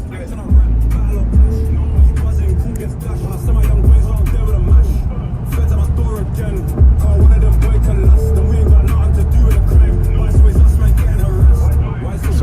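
Road traffic noise while riding along a motorway, a loud, constant low rumble of engine and tyres with passing vehicles, and people talking over it at times.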